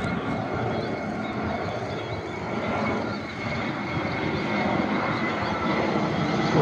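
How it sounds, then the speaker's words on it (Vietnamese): A Vietjet Air airplane passes overhead near a river ferry landing, a broad steady engine roar that swells and fades slightly, mixed with outdoor ambience and faint voices. "Có máy bay nữa nè."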